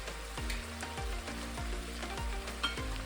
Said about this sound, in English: We started with some onion and garlic. We're gonna let this cook a little bit.